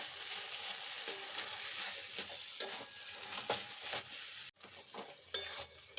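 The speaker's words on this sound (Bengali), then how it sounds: "আর এই যে এখানে হচ্ছে চাল কুমড়ো, চাল কুমড়ো ঘন্ট, একটু মুগ ডাল ছিটিয়ে চাল কুমড়ো ঘন্ট বসিয়েছি।" Ash gourd ghonto with a sprinkling of mung dal cooks in a pan, a steady close sizzle with repeated stirring scrapes and occasional utensil clinks, and no talking.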